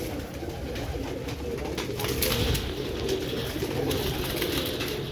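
Teddy pigeons coo in a loft, soft repeated throaty coos mixed with wing flutters and rustling over a constant busy background of other birds.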